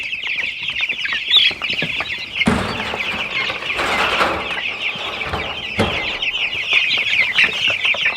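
Chickens on a small farm cluck and chatter close by, a continuous busy flock murmur with a few louder squawks and rustling bursts.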